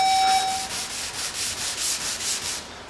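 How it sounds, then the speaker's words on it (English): Sandpaper on a hand block dry-sands automotive paint in close, regular back-and-forth strokes, about nine even rasping passes in a row following a brief beep. "Put the paper on the block, and this is dry sanding so we get a little more color"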